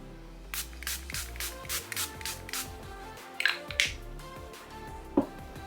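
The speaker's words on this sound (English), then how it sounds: "Watermelon Burst Setting Spray." Several short, soft bursts of Watermelon Burst setting spray misted onto a face, close by and spaced irregularly, with light handling taps and rustles between them and no talking.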